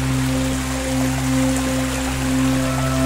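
Steady rushing water from a stream pouring over a waterfall into a deep pool at Pozze del Diavolo near Roccantica, a continuous broadband wash with no voices.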